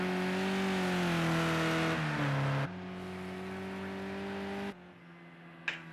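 Simulated touring car engine from a BTCC race at Oulton Park in a racing video game, droning steadily at high revs with gear shifts and a pitch dip, then fading as the final car passes, ending with a brief sharp click.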